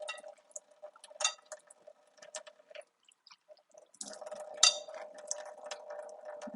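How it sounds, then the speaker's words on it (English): Wet hands working sourdough dough in a bowl give soft, sticky squelches and slaps at close range, with a steadier wet smacking stretch near the end and no talking. "I want to use wet hands and pull it away from the bowl"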